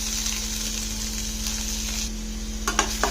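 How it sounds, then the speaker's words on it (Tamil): Chopped onions hitting melted butter in a kadai, producing a steady, close frying hiss that fills the clip, with a few brief stirring clatters near the end and a faint constant hum underneath. "எண்ணெய் வந்து நல்லா உருகுனதும் கட் பண்ணி வச்சுருக்க வெங்காயத்தை சேர்த்துக்கலாம்."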